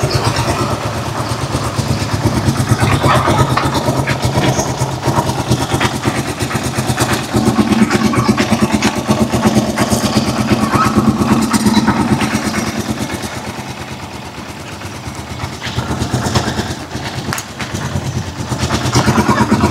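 Steady idle of a Rusi Chariot 175 motorcycle engine parked beside a dusty highway, a continuous mid-pitched putter running alone for the full stretch with slight dips in level.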